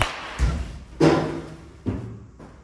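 Blue BBCOR baseball bat striking a ball, three separate dull impacts with quick decay, spaced unevenly and heard alone without talk.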